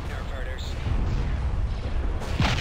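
A mass driver turret fires in the space strategy game Star Wars: Empire at War, with dense, rumbling booms and blasts that hold steady under a continuous roar of battle noise.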